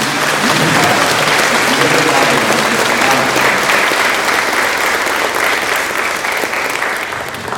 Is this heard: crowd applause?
yes